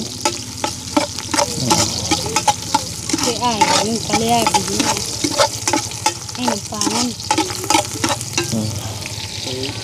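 Chopped onions sizzle steadily in a hot pan while a utensil scrapes and stirs them in repeated strokes; a voice is heard faintly in the background.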